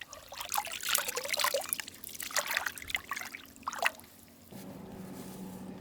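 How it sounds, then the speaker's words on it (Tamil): Crushed onion is dropped and stirred into tamarind water outdoors for a village sea catfish stew, giving wet sloshing, trickling splashes in bursts, then a steadier low liquid churn. "இடித்த வெங்காயத்தை புளி கரைசலில் சேர்த்துக்கணுமுக்கா"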